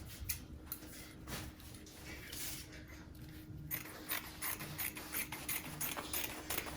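Scissors cut open a stitched seam in Ankara cotton fabric, giving a steady run of close, crisp snipping and ratcheting clicks that carries on throughout with no talking.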